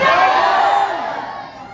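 Large crowd at an awards event cheering, shouting and whooping loudly and continuously, with children's shrieks mixed in, the roar easing slightly toward the end.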